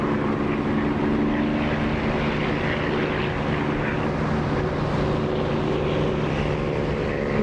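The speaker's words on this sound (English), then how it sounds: "I'm really bugged by the fact that my engine sound isn't right" Steady drone of an aircraft engine in the DCS flight simulator game, a constant propeller-like hum with stable tonal bands, loud and unbroken, with no talking.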